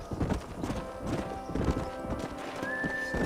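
A horse gallops in the Red Dead Redemption 2 video game, rhythmic clip-clop of hooves pounding steadily up close, with a neigh near the end and a voice briefly speaking over it.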